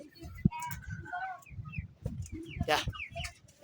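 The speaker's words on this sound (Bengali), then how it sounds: "এখন দেখেন এই যে আমাদের দেশি মুরগি দুইটা" Two native deshi hens on a small farm cluck close by in short, irregular bursts, with one sharper squawk, against quiet outdoor background.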